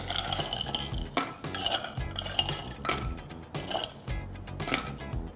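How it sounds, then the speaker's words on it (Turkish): Ice cubes clinking and tumbling into a glass of cold coffee made from filter or Turkish coffee, with several bright rattling bursts spread across the few seconds, close and fairly loud, no talking. "Şimdi buna ben buzunu ekliyorum."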